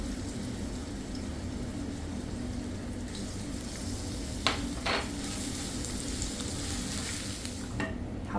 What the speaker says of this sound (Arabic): حمص عندنا البصل